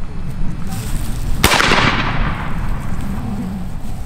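A real 1842 musket fires outdoors with a single loud, sharp blast, its report rolling off and decaying over a couple of seconds against a steady background of wind and ambient noise.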